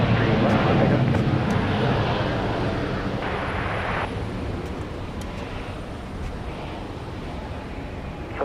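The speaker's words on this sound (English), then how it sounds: "I thought I heard a plane" An airplane at Dallas Love Field on Christmas Eve gives a steady, loud broadband engine roar that slowly fades, with a voice talking over it.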